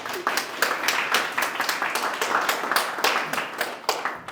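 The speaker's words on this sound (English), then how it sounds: "We're going to give a round of applause" Audience applause at a college ceremony fills the room, a dense run of many hands clapping close and steady for several seconds before tapering off at the end.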